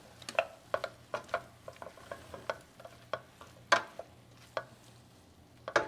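Green onions and tomatoes stirred in a pan: a quick, fairly regular series of spoon scrapes and taps over a faint constant sizzle, close and clear, with no talking.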